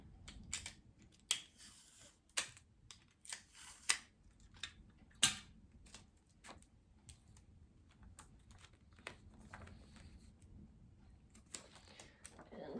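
A piece of tape is pulled and torn off the roll, producing a series of sharp close snaps and ticks, then a quieter rustling stretch, with faint low background noise.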